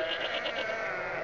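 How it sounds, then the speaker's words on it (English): Sheep bleat in The Simpsons Tapped Out video game, a faint sustained wavering cry with no voices over it. "we're hearing sheep"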